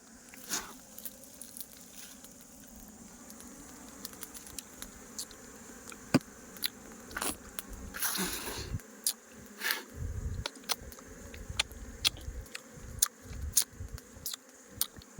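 Bees from a wild honeycomb buzz steadily nearby, a dense insect drone broken by sharp clicks and crackles from handling the comb, with irregular louder bursts in the second half.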